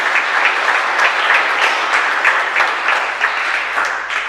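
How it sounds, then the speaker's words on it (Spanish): Steady applause from a church congregation at a parish Mass in Paraguay, dense clapping filling the space at an even level throughout, with no voices over it. "Son merecedores de un fuerte aplauso."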